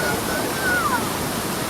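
Waterfall at Cachoeira dos Pretos in Joanópolis, heard from the top of the falls as a dense, steady roar of rushing water, loud and continuous.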